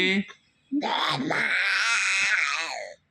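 A child imitates a tiger's call with a brief grunt, then a long, loud, wavering moan-like roar that holds for about two seconds before cutting off.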